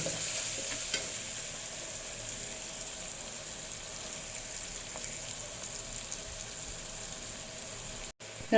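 Green chillies sizzle and crackle steadily in hot oil for a vegetable biryani, with a continuous close frying hiss and faint stirring scrapes, no voice heard.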